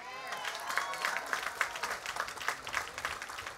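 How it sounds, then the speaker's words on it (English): Applause for graduates at Berkeley City College's 2013 graduation ceremony, a steady patter of many hands clapping at moderate distance with crowd murmur mixed in, sustained throughout without pause. "Graduates, you deserve a round of applause."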